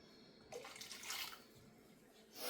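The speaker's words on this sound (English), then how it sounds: "we're going to add 2/3 of a cup of water" Water poured into a pan with blended fruit for making tincture and gummies, a brief splashing pour that swells and fades, then starts again louder at the end.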